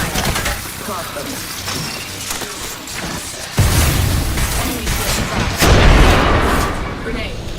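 Grenade explosions in a first-person video game battle, two heavy booming blasts bursting over ongoing gunfire and clatter.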